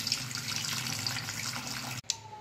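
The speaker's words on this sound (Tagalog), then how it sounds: "Pagkatapos niyan, babanlawan po natin yan. Para matanggal lang po yung starch." Tap water running over sliced potatoes being rinsed of starch for homemade potato chips, a steady splashing stream that cuts off abruptly near the end, followed by a brief clink.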